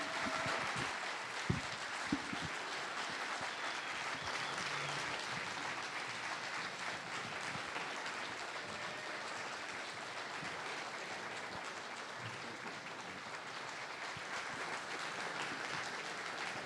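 Long, even applause from a conference audience at an annual housing conference award presentation, continuing at a steady level, with a couple of sharp knocks early on.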